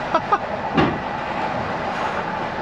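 A train rumbles by nearby with a steady broadband roar, a few clunks and clicks breaking through near the start.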